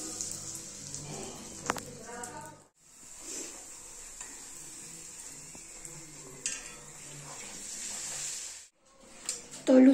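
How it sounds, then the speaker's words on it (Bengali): Luchi, puffed Bengali bread, sizzle in hot oil with a soft, steady hiss and occasional stirring, interrupted by brief quiet gaps and a few louder clatters near the end. "আমি লুচিগুলো ভেজে নিচ্ছি।"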